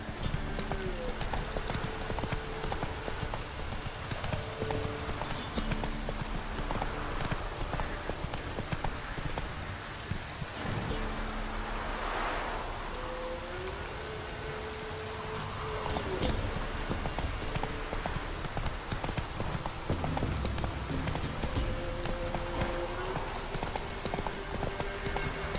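Roach, a horse in The Witcher 3, walks with clear, rhythmic clip-clop hoofbeats that go on steadily, with brief pauses, under faint game ambience and a short snort or whinny partway through.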